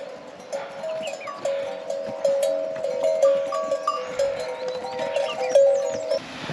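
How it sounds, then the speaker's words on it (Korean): Pack donkeys on a Himalayan trail near Larke Pass in the Manaslu region carry bells that clank in a steady, overlapping ringing, moderately close over faint outdoor ambience. "오늘도 당나귀를 만납니다."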